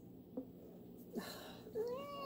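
A cat meows a few times at close range, short soft calls with the last one longer and rising, in a quiet indoor room.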